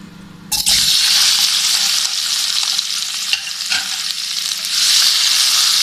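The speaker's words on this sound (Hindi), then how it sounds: "तेल गर्म हो गया है तो अब हम इसमें डाल देते हैं कलौंजी। इसके बाद हम इसमें डाल देते हैं खुबानी।" Nigella seeds and apricots hitting hot oil: after a brief quiet start, a loud hiss bursts up and holds as a dense, bright sizzle with a few stirring knocks, close and continuous.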